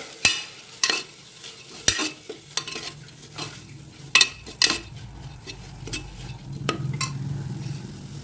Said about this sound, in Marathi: चवीनुसार मीठ टाकायचं परतून घ्यायचं दोन मिनटं मोठ्या गॅसवर